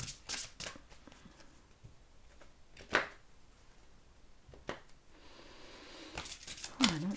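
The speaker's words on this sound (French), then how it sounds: "je sens qu'il faut que je mélange encore" Oracle cards shuffled by hand in a quiet room, soft papery riffles and pats in short bursts near the start, around three and five seconds, and again at the end, with no talk.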